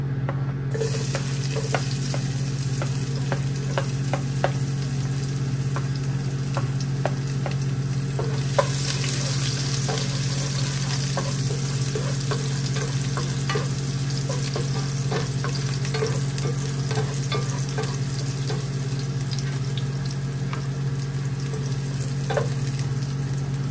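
Chopped garlic sizzles steadily in hot oil in a home kitchen pan, a loud close continuous frying hiss broken by the scrape and clack of stirring, with no voices.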